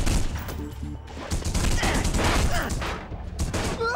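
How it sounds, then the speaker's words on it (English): Bursts of gunfire in The Punisher on PS2, a dense rattling fusillade of shots that runs through most of the stretch amid game noise, with a brief spoken voice. "Who's shooting?"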